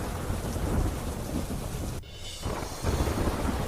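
Heavy, steady rain pours down during a flooding downpour in Dwarka, Gujarat, with rolling thunder rumbling beneath the dense hiss; the roar dips briefly, then resumes at full strength.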